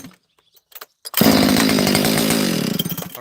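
A Husqvarna 371xp chainsaw bursts to life after a few quiet clicks and pulls, then runs loud and close with a rough, buzzing idle that wavers slightly as it settles.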